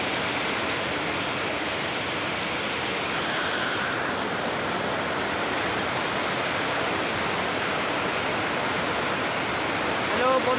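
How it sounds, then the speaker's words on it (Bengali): Heavy rain pours down in a dense, continuous hiss that stays loud and unbroken throughout, with no clear gaps or distinct drops. "আমার ধারে জল হচ্ছে খুব"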